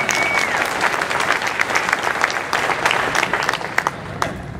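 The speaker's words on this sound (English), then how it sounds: "Let's give them a round of applause." An audience at a farewell event for President Vernon Pierce breaks into steady, full applause, many hands clapping continuously for several seconds.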